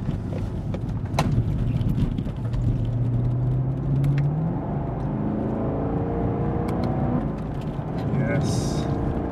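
A Camaro SS convertible's V8 engine accelerates on an open road, a steady rising drone with climbing harmonics under continuous wind rush, while a voice talks over it.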